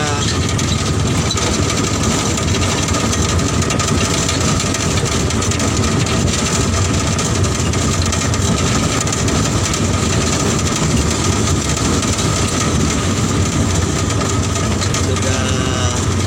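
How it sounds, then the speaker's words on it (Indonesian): A small car fitted with a motorcycle engine strains up a steep, fairly high bridge, its engine droning loudly and continuously with a rough, rattling mechanical tone throughout. "bagaimana ketangguhan mobil bermesin motor ini mendaki jembatan yang ya lumayan tinggi lah"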